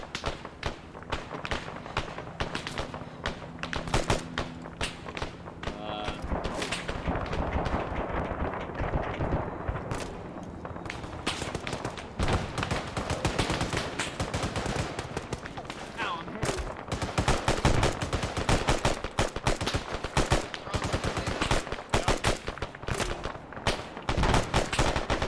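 Rapid gunfire in the military shooter Arma, dense bursts of automatic and single shots cracking almost continuously, loud and close with thuds mixed in, while a player speaks over the din.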